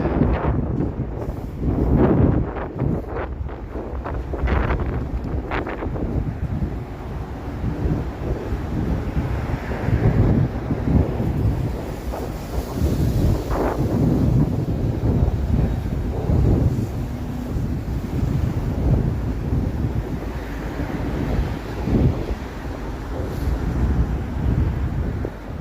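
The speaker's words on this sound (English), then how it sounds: "The wind." Wind gusting on a snowy, freezing Toronto evening in the city, a steady loud roar buffeting the microphone throughout with rumbling low-end surges and no clear talk.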